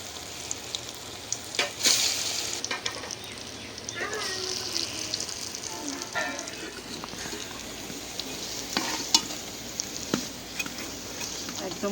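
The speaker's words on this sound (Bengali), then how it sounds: "এই যে এখন খেসারি ডাউলের বড়াগুলি ভেজে নেব।" Grass pea lentil fritters fry in a little oil, with a soft continuous sizzle broken by occasional stirring clinks and a splash of running water, while someone talks now and then.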